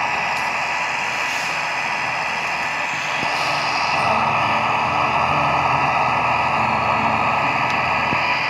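A tractor engine idles and runs in the Farming Simulator 16 video game, a steady droning hum with broadband noise that rises slightly partway through, with no talking over it.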